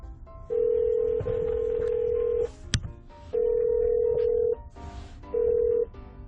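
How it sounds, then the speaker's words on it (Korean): A telephone ringback tone sounds while a call goes through to the Korean police 182 information line, with three steady, evenly spaced tones separated by short pauses and a sharp click between the first two. "182로 전화를 해서 한번 물어보도록 하겠습니다"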